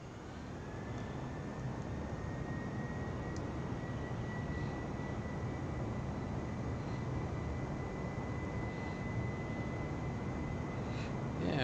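Airbus A320 jet engines in a flight simulator, a steady broadband roar with a rising whine tone that holds level throughout, with no talking.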